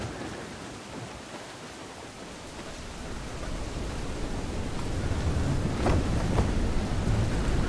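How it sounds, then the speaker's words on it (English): Thunderstorm at sea in Assassin's Creed IV: a broad, continuous roar of wind and rain that swells louder toward the end, with a couple of brief crackling bursts like distant thunder, no voices. "Storm there, Captain!"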